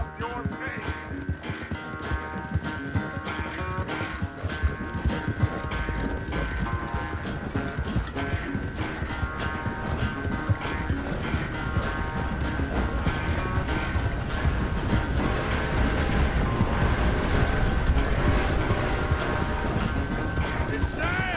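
Steady rhythmic clip-clop of horse hooves in Red Dead Redemption 2, continuous and fairly close, with a faint tonal hum and occasional voices underneath.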